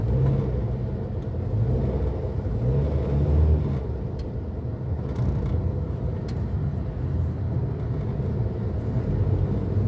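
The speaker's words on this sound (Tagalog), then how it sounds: "Traffic lang dito sa Quiapo mga ka-idol." Steady street traffic rumbles through Quiapo: a dense, continuous drone of engines with faint sharp clatters on top. No voices are heard.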